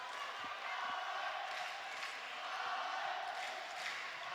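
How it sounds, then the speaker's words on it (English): A steady, dense roar from a large crowd cheering at an indoor men's volleyball semifinal match in the Spikers' Turf league, with Cignal HD Spikers playing, sustained and loud without pauses. "Now the crowd getting into the act here. Getting involved."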